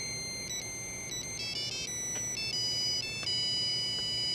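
A mobile phone ringtone plays steadily throughout a domestic drama scene, a bright repeating electronic melody held at a constant level with no talk over it.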